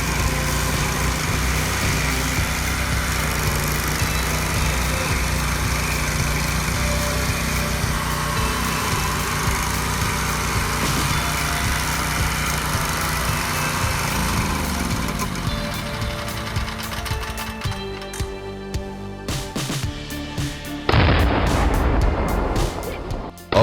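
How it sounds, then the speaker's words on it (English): A stump grinder fitted with a 670cc engine replacing a Honda 390cc, chewing through tree stumps: a steady loud engine drone with grinding texture, shifting in pitch near the end. "this machine is built to chew through stumps like never before"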